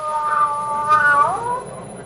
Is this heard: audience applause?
no